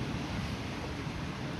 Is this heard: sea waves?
yes